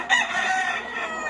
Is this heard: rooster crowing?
yes